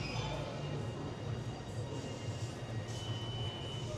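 Subway train rumble inside Penn Station, New York, at night, a continuous low broadband roar of rail noise with faint squealing overtones, steady throughout with no clear talk.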